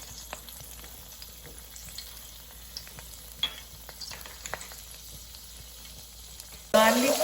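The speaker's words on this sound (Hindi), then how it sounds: "गार्लिक को हमने बहुत ज़्यादा ब्राउन नहीं करना, बस थोड़ा सा ही फ्राई करना है" Garlic frying in a pan for egg fried rice, a soft steady sizzle with occasional crackles and pops, then a sudden louder hiss near the end as something more is added.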